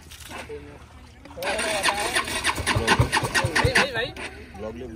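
A Bajaj Dominar 400 motorcycle engine, seized after taking in water while off-roading, cranks and catches, then revs unevenly in loud sputtering bursts close by, while people talk nearby.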